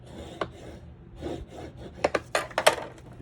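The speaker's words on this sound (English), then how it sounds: "Just score it 1/4 of an inch so it's exact." Short scraping and rubbing strokes of a blade scoring a journal cover board, close and fairly quiet, building to a few sharper scratchy cuts near the end.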